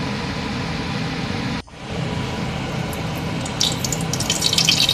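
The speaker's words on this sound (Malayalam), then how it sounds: "ഇനി 1 കിലോ ബസുമതി അരി നല്ലോണം കഴുകിയിട്ട്" Basmati rice being washed in water for a home chicken biryani, with a steady running-water wash close by, a brief break, then brighter splashing and sloshing toward the end.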